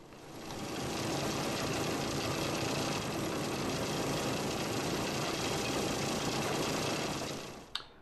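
A Keene 210 series dry washer driven by two custom blowers runs steadily with a loud, continuous mechanical roar and whir, conglomerate material rattling across its screen, then winds down at the end.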